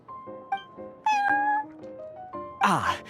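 A cat at the Cat's Tail in the Genshin Impact video game gives a series of clear, close meows, ending in a louder, drawn-out cry.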